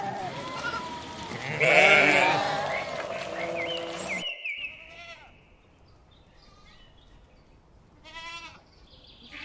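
A sheep bleats a few short, wavering times at moderate distance. The bleats are fairly faint and come after a louder, different sound cuts off.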